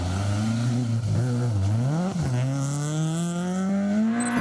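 A Honda Civic rally car's engine revs loud and close on a stage of the Mayo Stages Rally, its pitch climbing, dipping briefly with each gear change, then rising steadily again without pause.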